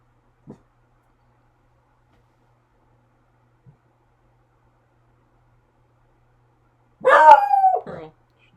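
Pearl the dog gives a short burst of barks and a whimpering yip near the end, loud and close, after a long near-silent stretch with a couple of faint taps.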